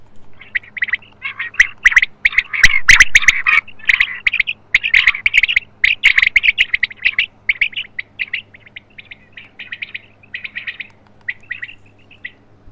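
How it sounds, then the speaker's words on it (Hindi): An electronic hunting caller plays quail and koel calls loudly: dense, repeated chirps and whistled notes in rapid bursts that thin out toward the end, with no talking. "ये अभी जो है वो बटेरे की आवाज़ जो है वो कोयल की आवाज़ जो है वो चल रही थी"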